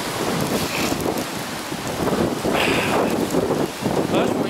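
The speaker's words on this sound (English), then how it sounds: "I told you it started raining." Steady wind buffets the microphone with a hiss of rain underneath, continuous and close throughout.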